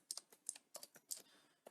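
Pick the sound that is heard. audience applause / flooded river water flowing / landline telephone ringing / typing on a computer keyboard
typing on a computer keyboard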